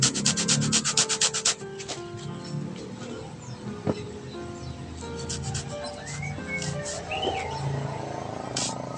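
Foam for a homemade motorcycle seat being cut in short rasping strokes, rough scraping pulses close up at first, then a softer continuous rubbing with faint chirping in the background.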